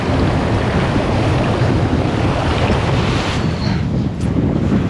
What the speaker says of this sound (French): il y a beaucoup plus de vent. Il y a des vagues aujourd'hui.